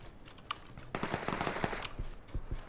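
Quiet bursts of rapid gunfire in a video game as the player character comes under fire, several sharp cracks clustered in the middle of the clip, fairly faint overall.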